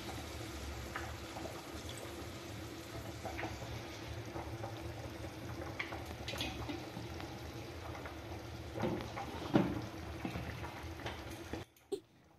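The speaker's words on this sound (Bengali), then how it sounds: "এবার পরিমাণ মতো জল দিয়ে দেব।" Water pours into a jackfruit hichor curry in a cooking pan, a quiet, steady wash of liquid with soft sizzling and small clatters before stopping abruptly near the end.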